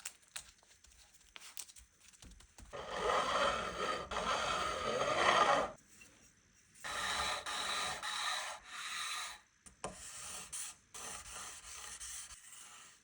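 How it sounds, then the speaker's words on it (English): Rough rasping and scraping in two long bursts, then shorter strokes, a steady abrasive rubbing of guitar fret ends being filed with a rough file and sanded with sanding blocks up close. "It only took a few passes with the rough file and then a few light passes with the sanding blocks"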